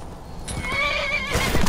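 A horse in Skyrim whinnies with a clear, wavering neigh over the middle of the short stretch, while hooves clip-clop beneath it and grow louder toward the end.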